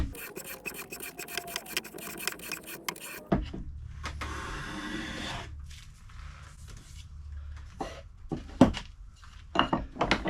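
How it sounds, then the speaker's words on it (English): Hand plane jointing the edge of a wooden board, giving rapid rasping strokes at first, then a longer shaving pass followed by a few sharp knocks and scrapes, close and fairly quiet. "we're just going to use a hand plane here to joint this edge."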